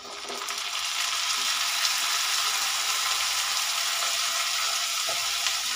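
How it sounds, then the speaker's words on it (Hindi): Washed, chopped potatoes fry with lightly browned onions in a pan, giving a loud, constant, close sizzle that fills the whole stretch with hissing crackle and no talk. "और हम इसे थोड़ा सा फ्राई कर लेंगे स्लाइटली, आलू को अपने प्याज के साथ।"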